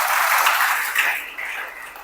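Church congregation applauding during a Sunday sermon, a dense wash of clapping that swells early and then thins and fades toward the end.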